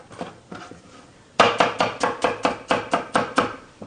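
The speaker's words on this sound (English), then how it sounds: "do some chopping right here." A knife chops food on a board in a series of about ten sharp, evenly spaced, loud chops. Softer, slower cuts come first.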